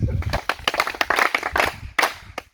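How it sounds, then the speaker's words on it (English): Audience at a secondary school in Uganda clapping for a speaker: a short, lively patter of applause from a crowd, mixed with a few voices. "Let's give him another round of applause."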